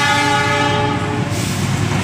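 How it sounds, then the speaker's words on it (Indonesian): The Argo Wilis passenger train sounds a long, loud, steady horn blast up close, with rumbling rail noise underneath as the train passes. "Panjang sekali klaksonnya"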